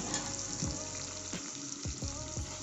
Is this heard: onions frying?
yes